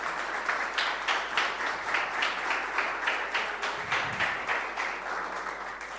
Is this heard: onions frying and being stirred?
no